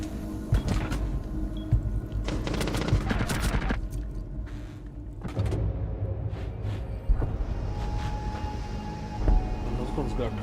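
Rainbow Six Siege gunfire arrives as rapid bursts of automatic shots mixed with impacts and clatter. The bursts are moderately loud, stop and start across the stretch, and in-game voices and other game noises sit between them.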